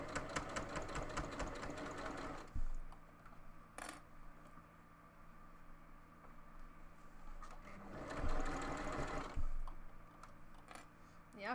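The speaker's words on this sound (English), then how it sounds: "So I'm gonna try sew that without the fur fighting on me." A sewing machine stitches furry fabric for fennec fox ears, with a fast buzzing run at the start and another burst later, separated by quieter stretches of low hum and faint handling sounds, fairly soft overall.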